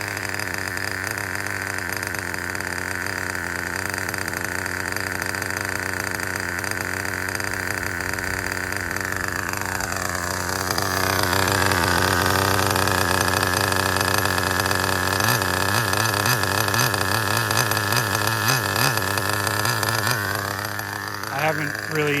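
An HPI Super Nitro RS4 nitro RC car engine runs steadily during break-in, a continuous buzzing drone that shifts pitch midway as the throttle changes, loud and close throughout without talk.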